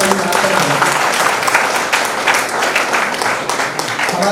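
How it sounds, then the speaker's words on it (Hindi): Loud, resounding applause from an audience at a Hindi language fortnight closing ceremony at a law college, a thick, continuous wash of clapping that holds at full strength throughout. "खनकदार तालियां"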